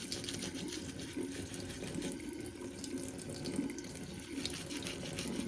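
A tap runs steadily into a sink as an Invisalign case is rinsed and brushed under the water, a continuous close splashing hiss with slight shifts in texture and no voices.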